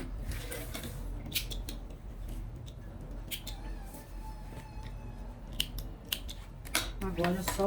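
Scissors snip off excess lining fabric from a sewn pencil case in scattered, faint clicks and crisp cuts, growing busier near the end over a low background hum.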